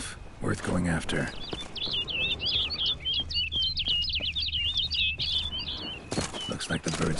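A bird in a PS4 video game gives a fast, twittering burst of chirps over a steady ambient bed, with wing flaps and footsteps at the start and end.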